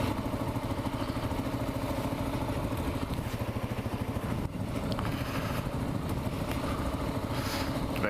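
A Kawasaki KLR650 motorcycle idles steadily in neutral, a low, even thumping rumble that runs without a break and sits fairly faint and close.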